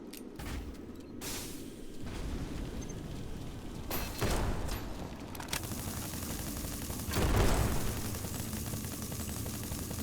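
Heavy cannon fire from a mech in a video game, a run of booming shots with dense crackling bursts and a louder blast near the end over continuous rumbling battle noise.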